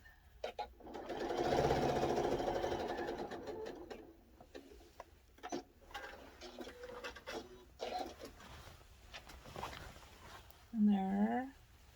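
A sewing machine stitches a zipper into a skirt, its motor whirring in a long steady run, then stopping and starting in shorter bursts, with a low cooing bird in the background near the end.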